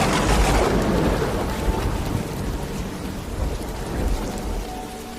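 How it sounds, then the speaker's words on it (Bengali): Storm effect for a story set on a flooded rainy night: a heavy rumble of thunder opens loud over dense, continuous rainfall, then the downpour carries on steadily, with no voices. "ঠিক তখনই বিকট আওয়াজে দূরে কোথাও যেন বাজ পড়ল।"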